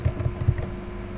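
Computer keyboard typing, a short run of about five soft, quick key clicks in uneven rhythm, close and moderately loud, then quiet room tone.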